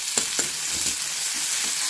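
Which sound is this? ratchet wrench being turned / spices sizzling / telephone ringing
spices sizzling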